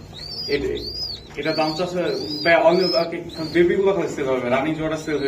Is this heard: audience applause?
no